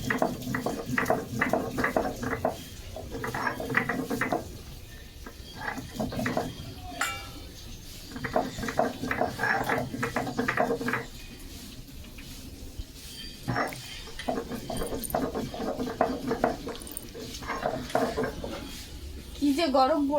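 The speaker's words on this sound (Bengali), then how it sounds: "শিলে মশলা বাটবো" Spices ground by hand on a stone slab (shil), a rhythmic scraping and knocking in repeated bursts of strokes separated by short pauses, close and moderately loud, with speech in between.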